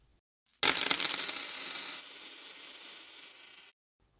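A handful of coins strike a hard floor together in one bright metallic burst, then keep rattling and shimmering as they settle, and the sound stops cleanly after about three seconds.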